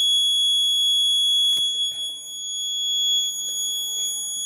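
Carbon monoxide alarm buzzer on a Zigbee coal mining safety monitoring system, giving a steady continuous high-pitched electronic tone that runs throughout, with faint handling noises and a brief spoken word.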